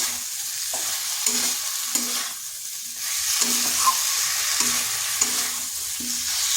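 Ingredients for a taro and masoor lentil curry are sautéed in a pan: a continuous sizzle with rhythmic stirring strokes at roughly two-thirds-second intervals, close and steady.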